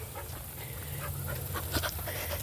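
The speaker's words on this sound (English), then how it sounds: "she turned out to be a beautiful doggy" A dog pants steadily and close by, a soft rhythmic huffing over a low background hum, alone without talk.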